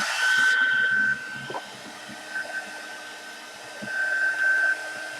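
A hair dryer blowing on freshly applied metallic hyperpigment paint, a steady airy whir with a thin whine that dips and swells as it moves, close and fairly loud, with no talking.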